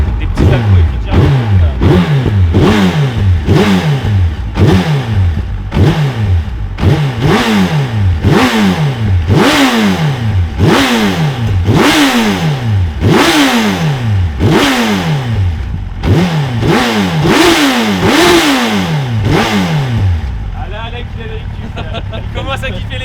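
A Suzuki Hayabusa motorcycle engine revs again and again in quick, sharp bursts, each rising and falling in pitch, close and loud, before settling to a rough idle.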